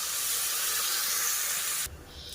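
Water splashes into a hot pan of tilapia curry, setting off a loud, steady hiss of sizzling steam that holds evenly for about two seconds, then cuts off sharply into a quieter bubbling.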